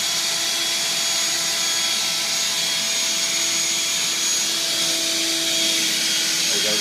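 A vacuum cleaner runs continuously at close range with a loud, even, high-pitched motor whine and no pauses, as it is pushed around indoors.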